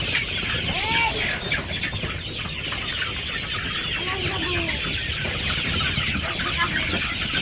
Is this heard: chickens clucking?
yes